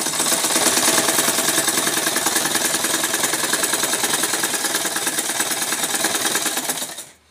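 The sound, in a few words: sewing machine stitching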